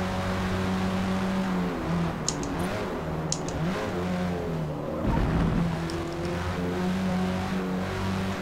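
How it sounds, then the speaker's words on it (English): A Forza Edition race car in Forza Motorsport drones steadily at Watkins Glen in light rain, its engine note shifting pitch through gear changes and a brief surge of revving near the end. "This Forza Edition car has got so much grip."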